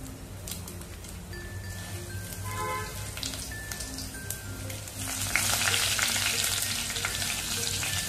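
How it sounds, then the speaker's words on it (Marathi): Cumin and mustard seeds, with coriander and fennel seeds, sizzle in hot oil for Rajasthani dal baati, a continuous crackling fry with a few clinks midway that swells louder and more intense in the second half. "जिरे मोहरी चांगली फुललेली आहे"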